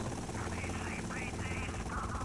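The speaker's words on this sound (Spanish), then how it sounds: "Pero es un helicóptero de policía o de la, banda" Police helicopter in the GTA Vice City remastered video game, its steady dense rotor drone blending with game sound throughout, with no speech.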